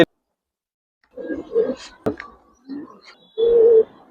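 Pigeons of the Giribaz breed coo in soft, throaty bursts, several short calls spaced irregularly with a longer rolling coo at the end, close by in an otherwise quiet space.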